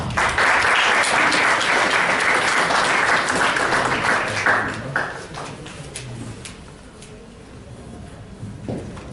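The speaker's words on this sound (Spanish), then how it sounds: "el licenciado José Gabriel Valdivia Álvarez, a quien recibimos con fuertes votos de aplauso" Audience at a panel forum applauding to welcome a speaker, dense and loud clapping for several seconds that fades out by the midpoint into quiet room sound with a few stray claps.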